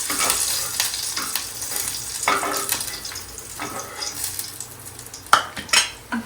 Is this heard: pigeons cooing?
no